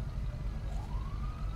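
A fire truck siren in the GTA video game wails with a rising tone over a low engine rumble, brief and fairly loud.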